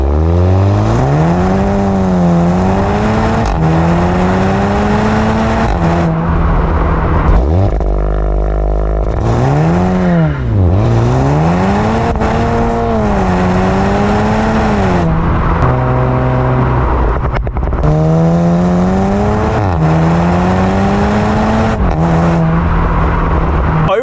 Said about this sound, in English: the TCR has dual real exhaust tips, and the TCR does get a free-flowing exhaust